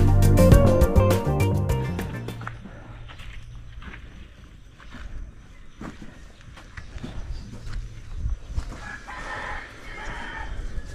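A rooster crows loudly at the start, followed by scattered clucking and shuffling sounds from nearby chickens.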